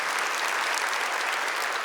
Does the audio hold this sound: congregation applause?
yes